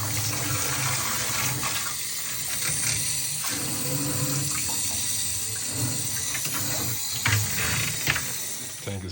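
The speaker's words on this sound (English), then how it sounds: "I'm finna use a shower head, go crazy in here, clean it on up" Water from a shower head sprays hard and steadily while an Oscar fish tank is cleaned during a water change, a loud, constant hiss with splashing that shifts slightly as the spray moves around.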